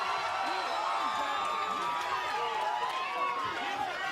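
A boxing crowd cheering at a live fight, a steady roar of many voices with whoops rising over it throughout.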